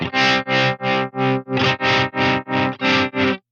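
A distorted electric guitar chord, played through an overdrive pedal on a Line 6 Helix, is struck about ten times in an even rhythm, each crunchy, saturated hit ringing briefly before the next.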